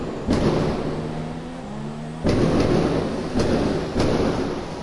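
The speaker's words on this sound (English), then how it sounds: "It was indeed fireworks." Fireworks go off in the distance in four deep, rumbling booms, spaced a second or two apart, with no talking over them.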